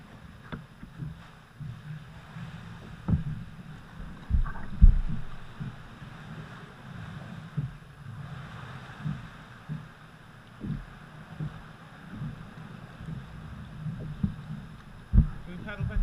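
A kayak paddles through a sea cave at St Non's in Pembrokeshire, with hollow knocks of the paddle against the hull and light splashes at irregular intervals over faint wind and water wash. A voice speaks now and then.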